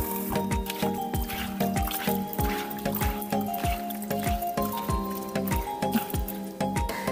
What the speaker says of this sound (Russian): Рис хорошо промываем прямо в нескольких водах, потому что почему-то страшно грязная вода, иногда даже черная.